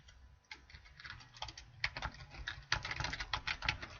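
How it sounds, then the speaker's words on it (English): Steady typing on a computer keyboard as a web address is entered, with rapid close key clicks in uneven bursts that grow denser toward the end, no talking. "So what I'm going to do is I'm going to type that in."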